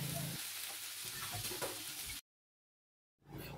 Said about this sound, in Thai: ผัดให้ใบโหระพาสุกสักเล็กน้อยครับจะได้ขึ้นไปแล้วไม่ดำนะครับ